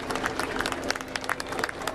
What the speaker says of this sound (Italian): Parte l'applauso.